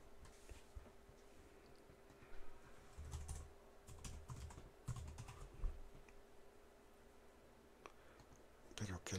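Typing on a computer keyboard sounds as quiet clicking bursts behind a low steady hum, and a few louder clusters of keystrokes stand out, especially near the end.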